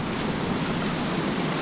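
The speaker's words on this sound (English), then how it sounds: "We've got some pretty good sized waves coming in out there." Ocean waves break on a shore in a continuous, full wash of surf, loud and steady with some wind noise and no voices.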